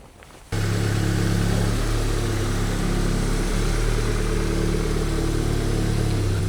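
A fire-damaged VW Golf R's engine catches abruptly after a brief quiet moment, then runs at a steady, loud, close-up drone with a deep, even hum and no voices.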